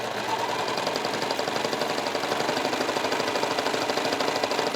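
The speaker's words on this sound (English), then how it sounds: "I have this set up for a 4-thread overlock stitch" An overlock serger runs steadily while sewing knit fabric with a 4-thread overlock stitch, giving a loud, close, rapid mechanical chatter that holds an even rhythm the whole time, with no voice.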